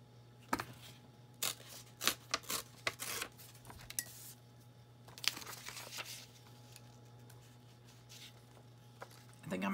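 Paper tearing against a tear ruler while making a recipe journal, a run of short crisp rips and crinkles in bursts, close by over a steady low hum.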